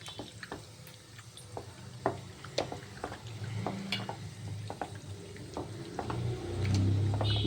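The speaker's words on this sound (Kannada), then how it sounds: "ಹಾಗೆ ಸ್ವಲ್ಪ ಉಪ್ಪಿನ ಪುಡಿ ಹಾಕೊಂಡು ಚೆನ್ನಾಗಿ ಕಲಿಸ್ಬೇಕು." Raw chicken being mixed by hand with salt powder for lemon chicken: soft, wet squelching and slapping in irregular bursts, close and fairly quiet, with no voices.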